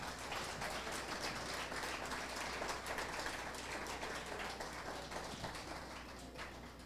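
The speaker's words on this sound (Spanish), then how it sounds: "Denle un aplauso al Señor" A church congregation claps in praise during a Spanish-language service, a steady wash of many hands blending into dense, continuous noise throughout, without pause or talk.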